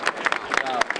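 Crowd applause at an evening campaign-closing rally in Reggio Calabria, as a future provincial president is called up: a short burst of dense, scattered claps with crowd noise mixed in.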